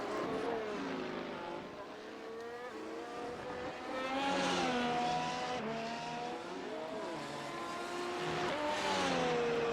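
A formula race car speeds through Stowe corner at Silverstone with a high, wailing engine note that climbs, drops through gear changes and rises again, loud and close, with no talking over it.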